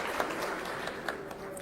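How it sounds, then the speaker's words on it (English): Audience applause at an India–Europe business roundtable meeting, steady dense clapping with a few sharper claps standing out, moderately loud, with faint voices underneath. "A big round of applause and thank you for making all the way from Armenia."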